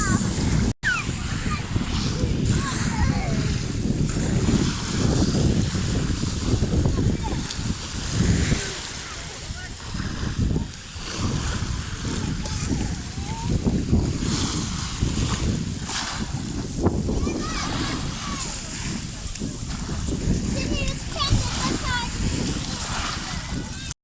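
Sea waves wash and slosh continuously close by, with splashing water and a rumbling surf texture running throughout.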